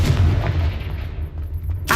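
A Confringo blast in Hogwarts Legacy lands as a heavy, gunshot-like boom at the start, rumbles away, then a second sharp burst hits near the end.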